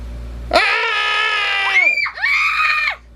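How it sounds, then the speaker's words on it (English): A man's long, loud scream from Stanley in the video game The Stanley Parable, a sustained wail that breaks off briefly and resumes with a rising, wavering howl before cutting out. "Stanley began screaming."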